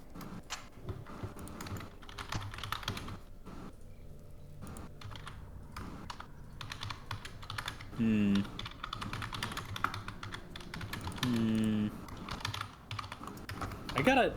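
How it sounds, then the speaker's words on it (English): Keystrokes on a computer keyboard clatter in irregular bursts through the whole stretch, close and fairly quiet, with a couple of brief voiced sounds rising over the tapping. "I gotta get a mechanical keyboard so that when I type, it sounds like I'm writing a novel too"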